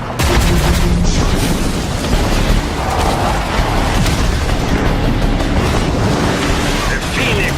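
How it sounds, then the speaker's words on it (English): Hellfire Mortar blasts from the Phoenix vehicle in the video game Rage 2 form a loud, continuous roar of explosive rumble and crackling debris that fills the whole stretch without letup. "Don't forget the Hellfire Mortar!"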